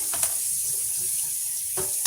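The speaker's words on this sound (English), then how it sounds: "I'm going to rinse this bowl." Tap water runs steadily into a kitchen sink while a bowl is rinsed, a soft continuous hiss with a couple of brief splashes near the start and end.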